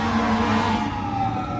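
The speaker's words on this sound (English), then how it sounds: "I didn't want to compete with the siren." An emergency vehicle siren passing outside a community center, a loud, steady wailing tone that fills the moment and fades slightly toward the end.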